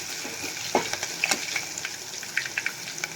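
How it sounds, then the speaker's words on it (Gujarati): Ginger and green chillies fry in hot oil for a peanut and potato khichdi, a steady crackling sizzle with scattered sharp pops and spatters throughout, close and fairly loud, with no one speaking. "તેલ આપણું થોડું ગરમ થાય એટલે આપણે એમાં આદુ મરચાં એડ કરી દઈશું"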